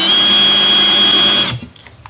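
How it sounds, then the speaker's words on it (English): A power drill whines loudly and steadily for over a second drilling holes in aluminum, then spins down and stops, leaving a few faint clicks. "drill holes."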